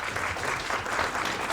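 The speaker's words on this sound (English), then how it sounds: "Can we give another round of applause to our panelists?" Audience applause for the panelists at a tribal session on rematriation of ancestral lands, a steady, full wash of clapping from a crowd that holds even throughout, with no talk over it.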